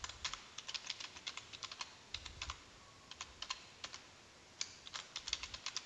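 Fingers tap out a password on a computer keyboard in a quiet room, giving quick, uneven bursts of crisp key clicks separated by short pauses.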